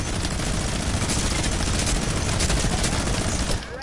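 Rapid automatic gunfire in a video game played with friends in creative mode, a loud continuous burst of shots that cuts off abruptly near the end.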